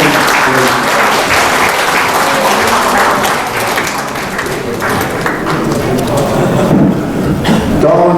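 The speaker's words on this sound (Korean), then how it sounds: "박수 한번" An audience at a forum held in a National Assembly members' hall claps together, a loud, continuous wash of applause close to the microphone that stays steady throughout with no gaps.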